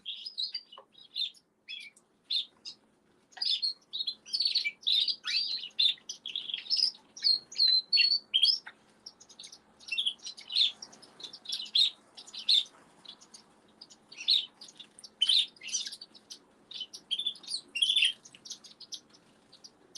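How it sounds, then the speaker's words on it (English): Society finches chirp and tweet in a busy, continuous stream of short, high calls and squawks, fairly close and bright against a quiet background with no talk. "My society finches had babies."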